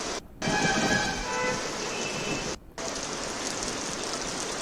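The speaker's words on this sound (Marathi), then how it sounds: "नाशिकमध्ये अवकाळी पावसानं जोरदार हजेरी लावली आहे" Heavy unseasonal rain in Nashik, India pours in a steady, dense hiss, with two brief abrupt gaps in the downpour.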